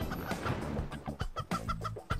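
A chicken clucks in the Turbo Dismount video game, with a run of quick, choppy bursts at moderate volume and no speech.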